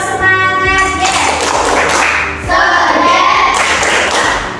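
A class of children at an Islamic school perform a tepuk semangat, a rhythmic clapping chant, loud and close, with bursts of hand claps and taps mixed with shouted voices.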